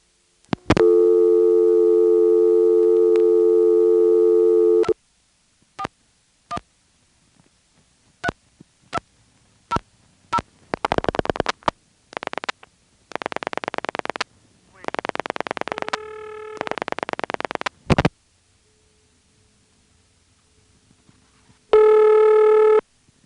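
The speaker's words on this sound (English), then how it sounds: "Here's a vacant level featuring the ring and the reorder tone." Telephone exchange tones from an ITT Pentaconta crossbar switch on a vacant level, a St. Thomas type ring and reorder tone: a long steady tone, scattered clicks, then repeated bursts of ringing and reorder beeping, clear and alone.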